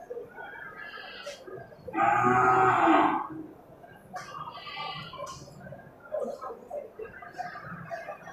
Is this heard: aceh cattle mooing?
yes